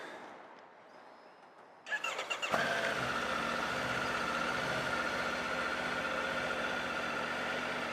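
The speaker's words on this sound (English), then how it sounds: "I'm going to give this bike a start here." A 2021 Triumph Tiger 850 Sport motorcycle engine cranks over after a quiet moment, catches with a few rough pulses, then settles into a steady, even idle close by.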